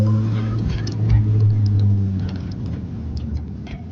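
Low engine rumble of a Mk1 Jetta pulling away under quick acceleration, close and steady, easing slightly toward the end, with light ticking sounds over it.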